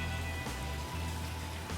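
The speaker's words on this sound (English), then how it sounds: "It is a very rainy day today" Steady rain on a rainy day at a South Florida farm, a continuous dense patter of drops with no voices, even and close throughout.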